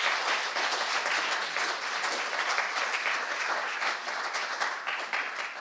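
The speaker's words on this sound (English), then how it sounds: "could we give her, please, a very warm round of applause" Warm applause from the audience at an academic session on climate sustainability, steady, dense clapping filling the room for several seconds without any talk.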